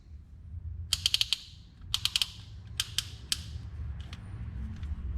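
A ratchet tightening the injector hold-down bolts on a Cummins engine, quick bursts of three or four bright metallic clicks repeated several times, close and crisp over a low background rumble.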